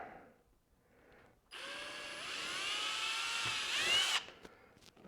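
A power drill whines steadily for about three seconds while drilling a plastic Yamaha Tenere 700 motorcycle fairing, its pitch shifting slightly as it bites, then cuts off abruptly. Close and loud.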